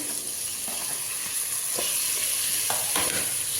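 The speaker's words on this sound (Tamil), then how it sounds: "இப்போ தக்காளி வந்து நாலு தக்காளி போடுறேன்" Greens and four tomatoes sizzle steadily in a frying pan alongside garlic and small onions, a continuous close hiss broken by a few soft stirring scrapes and clicks, with no talking.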